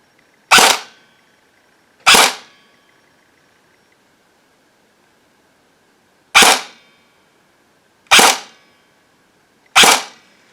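CYMA M4 CQB-R airsoft rifle firing five sharp single shots, each a loud crisp snap with a short decay, spaced irregularly over quiet pauses.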